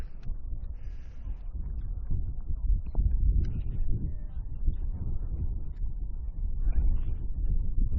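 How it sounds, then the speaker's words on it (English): Low, steady rumbling buffets of wind across the microphone at an outdoor softball game, fairly loud and continuous, with a few faint distant thumps. "Very windy out here."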